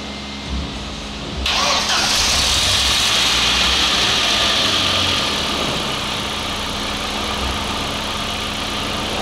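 A Volkswagen Passat B5 engine cranks and fires after its battery was charged, catching quickly and settling into a steady, close idle with no voices.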